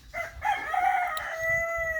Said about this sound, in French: Vous voyez ici d'autres poulets en liberté